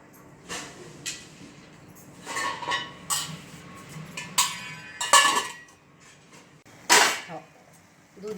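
A lid goes onto a pot of carrot and beetroot halva cooking in simmering milk, giving several sharp metallic clinks and knocks spread unevenly over a quiet background, close by.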